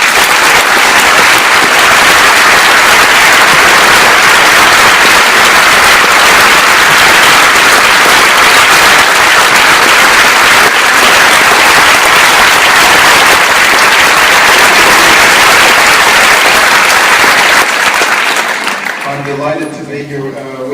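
Sustained, loud audience applause fills the room as Dr. Benjamin Carson is welcomed to the stage, a dense wash of many hands clapping that fades out near the end.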